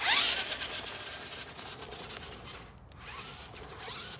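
A Redcat Danchee four-wheel-steer RC car on its first drive, heard as a continuous high-pitched motor whine with gritty rolling rasp that dips briefly and then returns, fairly close, with no talking.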